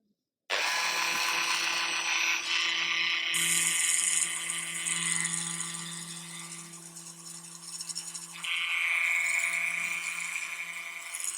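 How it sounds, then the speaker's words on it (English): A small power drill whirs steadily while boring handle holes in a plastic part of a 1/35 scale Rye Field Model Tiger tank, starting abruptly and running continuously with shifting pitch as the bit bites, close and alone. "we'll drill the handle holes next."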